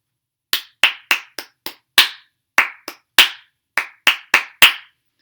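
Sharp hand claps, fourteen in all, performed alone as a syncopated rhythm exercise with uneven spacing and off-beat accents, close and crisp against silence.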